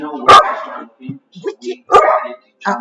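A dog gives two sharp, loud barks about a second and a half apart, with softer whines and yips in between, close by.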